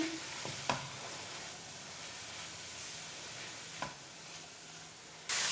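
Spices frying lightly in a pan for chicken malai balls, a soft continuous sizzle with a couple of quiet spoon taps as they are stirred, close and fairly faint, no voices.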